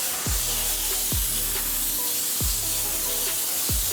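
An IK foamer sprays foam onto a car in a continuous hissing rush, with soft low thumps recurring every second or so beneath the spray.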